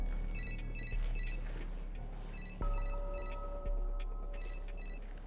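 A telephone rings in repeated electronic bursts, several short trilled rings in a steady pattern over a low background hum, fairly close and alone with no talking.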